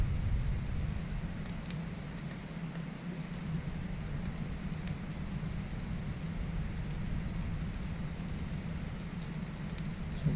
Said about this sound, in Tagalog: So grabe yung apoy yan.